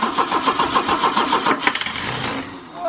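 A 32K-mile Opel GT, sitting unused for 24 years, cranks over in a steady rhythmic churn for over a second before catching and sputtering into a rough, uneven start, loud and close with no talking.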